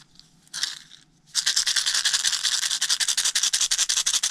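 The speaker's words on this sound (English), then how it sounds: "They're little heart rattles." A small handcrafted heart-shaped palm rattle filled with stones such as lapis lazuli is shaken close up, a brief gritty swish followed by a steady, rapid rhythmic rattling of tiny grains, with no voices.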